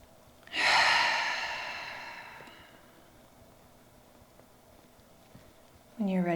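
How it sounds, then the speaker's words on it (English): During a trauma-informed yoga session, one long, deep breath out swells loudly and fades slowly over a few seconds, followed by quiet until a voice begins speaking. "We'll take our last few breaths on this side."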